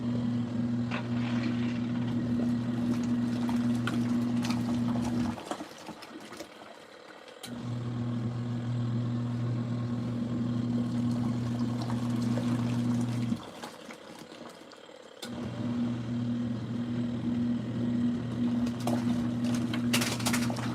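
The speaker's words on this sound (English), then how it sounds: "We do have filtration rinse on, so we are going to be doing a filtration rinse." An LG ThinQ top-load washer runs a filtration rinse cycle, with a steady humming pump and sloshing, trickling water that cuts out twice for a couple of seconds before resuming, heard close and alone.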